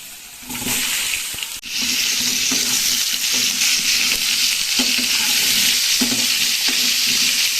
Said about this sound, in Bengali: এই তেলের মধ্যে মাছের আলুটা ভেজে নেব। দিয়ে দিচ্ছি কেটে রাখা আলুটা।